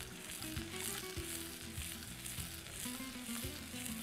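Tawa chicken with onions and green chillies fries on a hot griddle, giving a dense continuous sizzle with low rumbling clatter from stirring. The frying sounds steady and close, with a faint tonal hum beneath and no clear talking.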